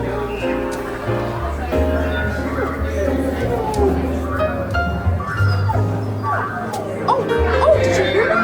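A dog figure in a holiday exhibit at Universal Orlando gives a whimpering, yipping sound when petted, heard under a busy, crowded background of music and voices.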